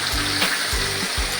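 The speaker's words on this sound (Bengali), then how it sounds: "মাছ ভাজা হচ্ছে, একটা একটা পিস করে ভেজে নেওয়া হবে অল্প করে" Small puti fish frying in hot oil, a steady broadband sizzle running close and continuous, with a few low bubbling pops and thumps as pieces move in the pan.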